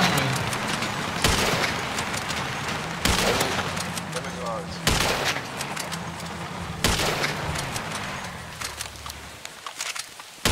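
Sniper and other gunfire in GTA, several loud sharp shots spaced a couple of seconds apart, each with a long echoing tail, with game ambience between them and faint talk.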